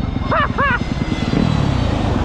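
A low propeller aircraft drone rumbles steadily up close, with a couple of short whistling chirps early on.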